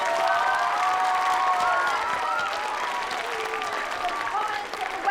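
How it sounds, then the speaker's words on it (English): An awards-ceremony audience at a book festival claps and cheers steadily, a dense wash of applause with overlapping voices calling out over it throughout. "Can you give yourselves a great big clap"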